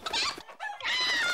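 Cartoon rooster giving two short, loud clucking calls separated by a brief pause, with no talking over them.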